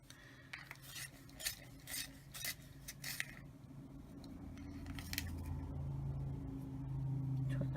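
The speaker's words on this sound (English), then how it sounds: "So I'm going to sharpen the gray." A gray colored pencil is sharpened in a few quick rasping grinds, followed by a low steady hum of background noise.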